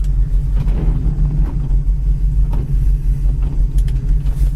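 A 1970 Chevy Camaro engine idling with a steady, loud low rumble and a faint irregular lope, close by and with no voices.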